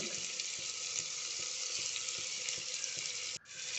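Mixed vegetables such as beans and broad beans sauté in oil with salt, giving a steady moderate sizzle with faint rhythmic stirring taps and a brief break near the end.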